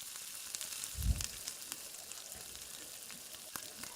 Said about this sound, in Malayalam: നമ്മൾ വറുത്ത് വെച്ചിട്ടുള്ള കോളിഫ്ലവർ ഇതിലേക്ക് ചേർത്ത് ഒന്ന് കുക്ക് ചെയ്തെടുക്കാം